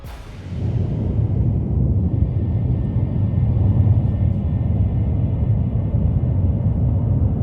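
MD-11 airliner flying low on landing approach, a loud steady jet roar and deep rumble that swells in at the start and holds constant, with no voices.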